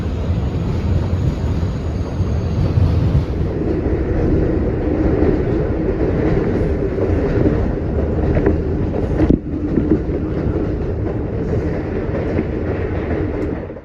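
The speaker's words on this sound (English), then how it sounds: "transferring to an elevated line onto the 7, which is pulling in" An NYC Subway 7 train pulls into a station on an elevated line in Queens, a loud steady rumble of wheels and motors with rhythmic clacking, a sharp clank near the end, and no talk.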